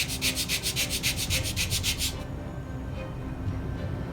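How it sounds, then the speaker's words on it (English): Model rocket fin edges rubbed back and forth on a sanding block, a steady rhythmic scratching of about a dozen close strokes that stops halfway, leaving quiet room tone. "you want to make sure you're holding it perpendicular to the sanding block"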